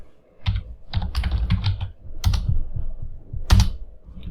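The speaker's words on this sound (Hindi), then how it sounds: "यदि मैं यहाँ पे मान लीजिए सुनीता लिखता हूँ" Typing on a computer keyboard while entering text in an Excel spreadsheet: several quick bursts of close, crisp key clicks with short pauses between words, and no voices.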